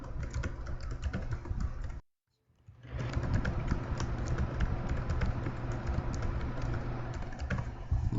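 Keys clatter on a computer keyboard in quick, uneven bursts of close taps, broken by a brief silent gap before the steady typing resumes.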